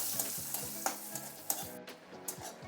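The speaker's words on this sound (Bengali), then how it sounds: "ওই তেলেই আগে যে শুকনো লঙ্কা ভেজে নিচ্ছি" Dried red chilies frying in hot oil with a steady sizzle, interrupted by repeated crisp scrapes and taps of a spatula against the pan.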